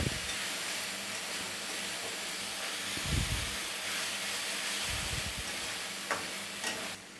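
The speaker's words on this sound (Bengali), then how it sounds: "আদা রসুনের যতক্ষণ কাঁচা গন্ধটা না যাবে ততক্ষণ আমি এটাকে একটু ভেজে নেব" Ginger and garlic paste fries in a pan for tadka, giving a steady close sizzle with a few low thumps and scrapes of stirring.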